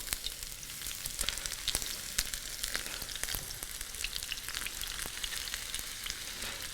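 Okonomiyaki cabbage batter sizzling in a hot pan, a steady crackling fry with frequent small pops, close and continuous with no talking.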